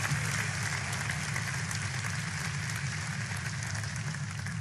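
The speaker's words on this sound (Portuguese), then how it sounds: "Pode glorificar ao Senhor com palmas." A church congregation claps hands together in praise, a dense steady wash of applause that holds at an even level from start to finish.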